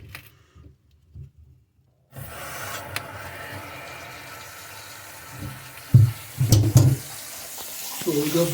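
After a quiet start, water begins running from a tap during a toilet sprayer installation with a steady hiss, punctuated by a few clunks and splashes nearby.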